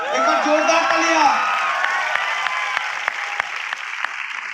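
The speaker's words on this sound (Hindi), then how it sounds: "एक बार जोरदार तालियां।" An audience at a motivational speech event bursts into loud applause and cheering, with whoops at the start and a continuing burst of claps that gradually thins out toward the end.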